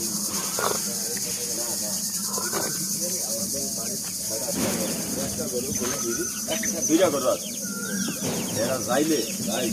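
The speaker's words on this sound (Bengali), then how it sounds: "কঠিন পাখির ডাক হয়েছে" Birds call repeatedly in the open, chirps and whistles over a steady high insect drone, with a voice briefly heard in the background.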